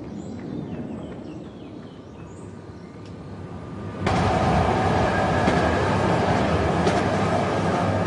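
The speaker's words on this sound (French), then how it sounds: "Entre les deux, 1 heure de trajet en RER en passant sous le cœur de Paris." An RER commuter train rumbles through tunnels under central Paris, with a muffled roar that suddenly grows louder and more constant midway.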